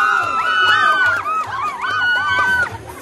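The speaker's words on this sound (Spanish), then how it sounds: "Los copanecos, un fuerte aplauso." A crowd at a school Día del Indio celebration cheers loudly for the Copán department delegation, with high shrill voices and whistle-like calls rising and falling over a steady low murmur for about three seconds.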